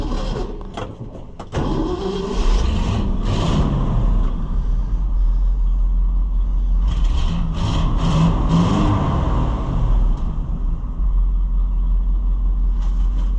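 A 1969 Ford F600 truck engine is shut off with a brief thump, then cranked and restarted, settling into a loud, steady low rumbling idle close by that runs on with some mechanical rattle.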